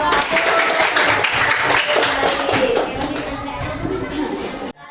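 Classroom applause from a group of pupils, a busy patter of clapping at steady loudness for most of the stretch, mixed with children's chatter, ending abruptly.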